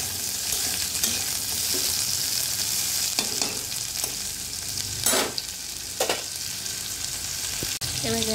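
Papaya, potato and tomato pieces fry in hot oil for an egg curry, giving a loud, steady sizzle that runs throughout, with a few scraping stirs of the pan.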